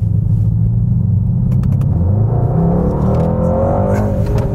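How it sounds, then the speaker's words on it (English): A Mercedes-AMG GT 63 S four-door coupé with a bi-turbo V8 pulls hard from about 20 mph, its deep engine note rising steadily and loudly throughout, heard from inside the car with no talking. "let's just do a quick acceleration test"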